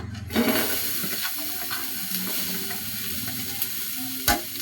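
Onions sizzling and frying in a hot pan for egg bhurji, a steady close crackle with stirring scrapes and a sharp clatter near the end, no voices.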